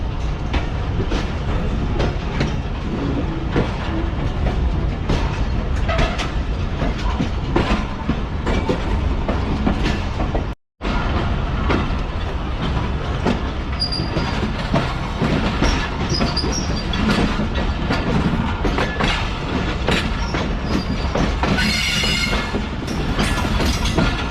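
Pak Business Express passenger train rolling toward the Kotri bridge over the Indus River, steady loud rumble with clickety-clack of wheels on rails and a brief dropout midway, with no talking.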